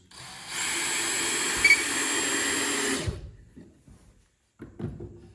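A power drill drives a 2-inch exterior screw into a wooden nest box with a loud, steady whine for about two seconds, followed by faint knocks of handling the wood.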